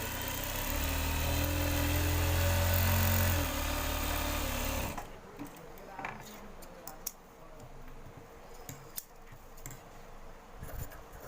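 A sewing machine stitches a shirt collar, its motor running in a loud, steady drone for about five seconds before stopping. Faint clicks and handling noises follow at close range.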